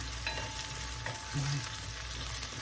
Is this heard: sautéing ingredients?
yes